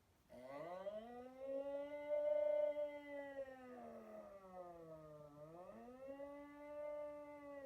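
A trumpet imitates a siren, one sustained loud tone that swells, dips low and rises again in slow wailing glides, played alone.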